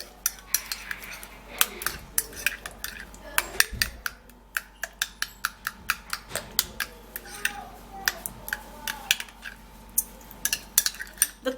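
A spoon clicks and scrapes steadily against a small bowl while an undereye remedy mixture is mixed, with dozens of crisp, close taps in an irregular rhythm and no talking.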